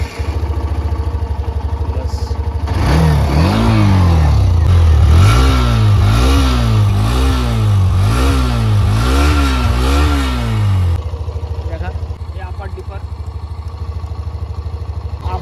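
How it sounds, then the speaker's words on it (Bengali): A Hero Xtreme 125R motorcycle's engine fires up close by and revs repeatedly in rhythmic up-and-down bursts, then drops back to a steady idle with no talking. "তো বাইকটা চলো স্টার্ট করি।"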